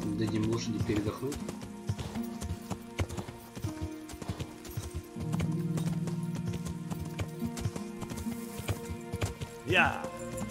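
Rhythmic hoofbeats of a horse in Kingdom Come Deliverance, close and steady, with a brief whinny near the end, heard beneath a man's speech and background game music.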